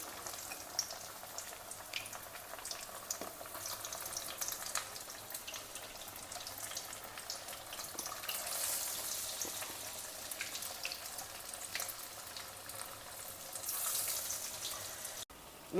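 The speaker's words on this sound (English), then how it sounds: "Likewise, fry the remaining batches also." Sweet potato bajjis fry in hot oil with a soft continuous bubbling sizzle, fairly faint and steady throughout, no talk.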